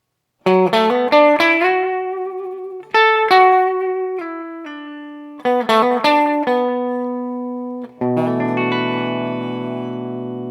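Brighter, twangier electric guitar on a Gibson Kirk Hammett "Greeny" Les Paul Standard's bridge pickup picks quick phrases in several bursts with short gaps, ending on a ringing chord; crisp attack, no voices.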